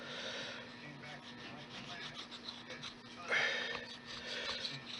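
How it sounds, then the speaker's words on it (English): A burnishing tool rubs against a handmade leather pistol holster, a soft, steady scraping and rasping that stays faint, with a slightly stronger stroke partway through. "So what we do is we take the burnishing tool"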